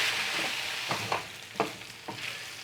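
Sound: stir-frying beef tongue with curry paste

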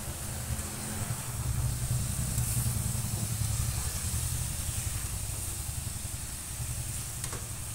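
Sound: potatoes frying with cumin and coriander powder

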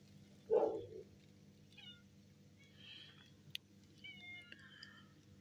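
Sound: cat meowing

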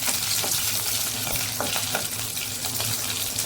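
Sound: curry leaves and green chilies stirred in a pan

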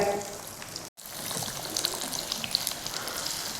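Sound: ridge gourd bhaji (fritters) frying in oil

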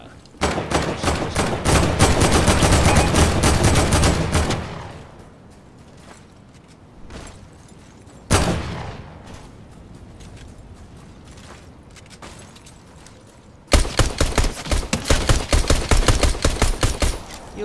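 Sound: pistol gunfire in Fortnite video game

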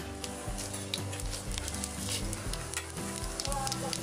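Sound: asafoetida roasting and sizzling in hot oil in a kadai

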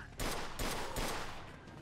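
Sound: gunfire in shootout, from video game Mafia 2

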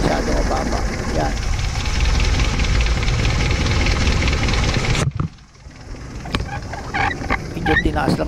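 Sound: Kia Pride engine idling after carburetor idle adjustment

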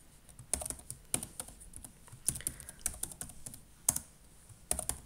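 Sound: typing a password on a computer keyboard

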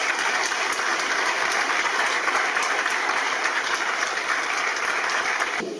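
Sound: audience applause at a tribute ceremony

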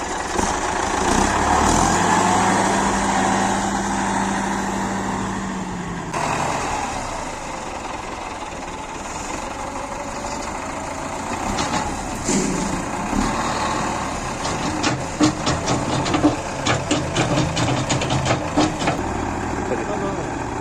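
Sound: tractor with bucket and trucks loading manure

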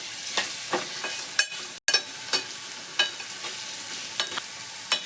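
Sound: tomatoes being stirred and fried with onion

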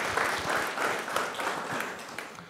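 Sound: congregation applause for ministry board

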